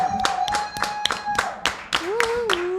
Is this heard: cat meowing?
no